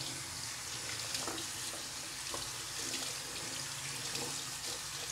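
Tap water runs steadily into a sink, rinsing eyeglass lenses under cool water, a continuous close splashing hiss with no talking.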